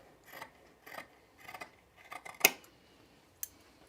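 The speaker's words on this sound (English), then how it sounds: "I'm gonna trim this down to a 1/4 inch seam allowance" Scissors trim a fabric seam allowance while a Henley shirt is sewn: a series of quiet, crisp snips at a steady pace, close and soft, and one sharper click near the end, with no voices.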